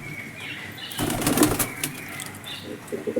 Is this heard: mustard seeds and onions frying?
no